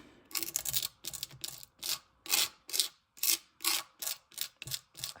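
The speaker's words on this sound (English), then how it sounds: "I'm just going to kind of scrape off my excess here" Excess embossing paste is scraped off a stencil mask in a dozen or so short raspy strokes, each a close, distinct scrape separated by brief pauses, with no talking.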